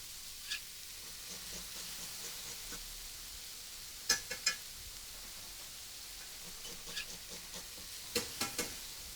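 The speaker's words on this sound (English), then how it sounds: "I'll give that a little stir in" Minced onion and garlic stirred into browned meat in a hot pan, a steady faint sizzle with a few scraping spoon strokes in short clusters, close and quiet, no talk.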